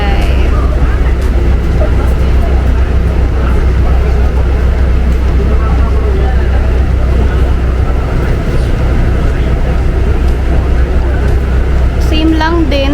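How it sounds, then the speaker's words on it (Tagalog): Steady low rumble of a Calgary Transit city bus, route 115, heard from inside while riding, continuous engine and road drone throughout with people talking over it. "Ayan, Pips, nakasakay na kami ng bus"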